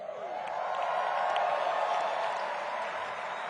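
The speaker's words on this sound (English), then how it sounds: "I'm not buying the applause" Sustained audience applause fills a TV studio, a dense, steady wash of clapping with faint cheers mixed in, loud and continuous throughout without spoken words.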